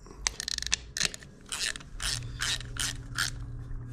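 A ratchet tightening the oil drain plug on a Honda CRF450RWE motocross bike, with quick clicking bursts followed by slower repeated ratcheting strokes, close and fairly quiet, with no talk.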